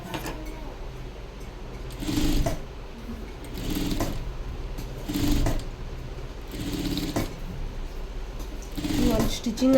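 A sewing machine stitching a high-neck blouse, running in several short whirring bursts separated by pauses, close and moderately loud, with a voice talking over it at times.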